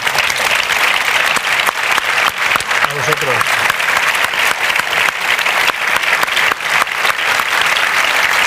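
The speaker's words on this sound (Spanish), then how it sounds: "creo que se merece un gran aplauso" Audience applause fills a theater hall at a political book presentation for a politician at Teatro Goya in Madrid, steady and sustained throughout, with a brief spoken phrase over it.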